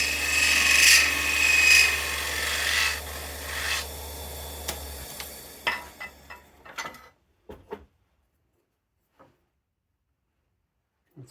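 Rasp filing a small nub on a wooden yoyo cut from recycled deck plank, several seconds of steady rough scraping strokes, then scattered light taps and knocks as the work settles into quiet.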